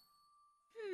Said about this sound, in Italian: Guarda, una campana.